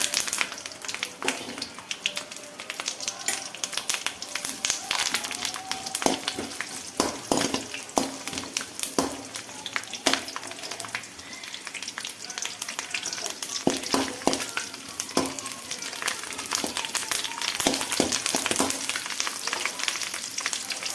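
Onions, curry leaves and green chillies frying in hot oil for upma, a continuous crackling sizzle with sharp pops and spatters scattered throughout, close and fairly loud, no talking.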